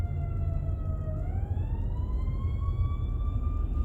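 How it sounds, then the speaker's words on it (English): An ambulance siren wailing in traffic, a steady tone that dips and then climbs in pitch as it draws nearer, heard over the constant low rumble of a vehicle interior. "Here comes an ambulance."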